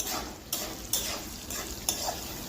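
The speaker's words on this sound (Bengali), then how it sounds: "একদিকে করলা ভাজা হচ্ছে" Bitter gourd sizzles steadily as it fries in a pan on a home stove, with a few brief scrapes or clinks of a spatula stirring it at intervals and no voices.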